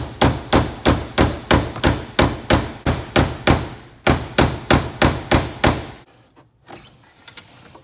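Sharp metallic hammer blows driving a brake pin on a Honda, about fourteen evenly spaced loud strikes in a brisk rhythm with one short pause, then the hammering stops and leaves quiet handling noise.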